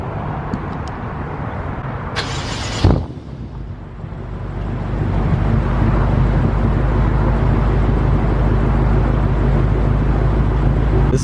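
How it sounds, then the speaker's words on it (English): A 2015 BMW F10 M5 Competition with a Turner Motorsports axle-back exhaust, otherwise stock, heard up close: a short sharp rev blip, then the engine settles into a loud, steady, deep drone that continues to the end. "let's give you guys a few little revs"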